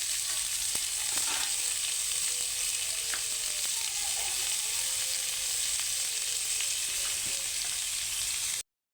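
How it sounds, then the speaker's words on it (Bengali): Potatoes frying in oil in a wok make a steady, dense sizzle throughout, with a few faint clicks of stirring, until the sound cuts off abruptly at the end; no one speaks. "কড়াইতে তেল দিয়া সব আগে ভাজলাম একটু আলু আলুটা ভাজুন"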